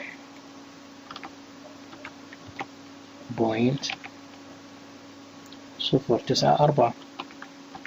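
Computer keyboard typing a value, a faint scatter of light key clicks running beneath a man's speech.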